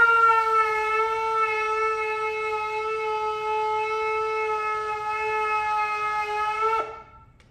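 A ram's-horn shofar holds a single long tekiah blast, sustained and steady for nearly seven seconds, close and loud with a rich buzzy tone, ending in a brief cracking upturn before it stops.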